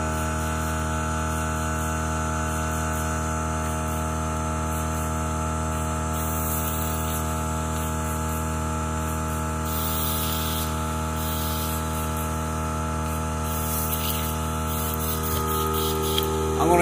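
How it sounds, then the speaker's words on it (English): An airbrush is flushed out while painting a fishing lure, spraying in a loud continuous hiss over a steady compressor hum, close and unbroken throughout. "So I'll clean my airbrush out real quick."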